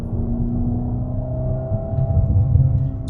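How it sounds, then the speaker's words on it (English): A revving 720 hp Mercedes-AMG GT Black Series engine drones close by, its exhaust crackling and popping briefly near the end as the throttle lifts. "You also just heard the backfire."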